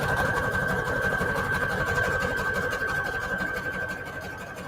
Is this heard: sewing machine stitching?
yes